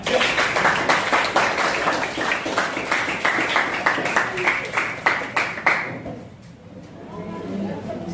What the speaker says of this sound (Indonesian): Kita kasih aplaus untuk teman semua.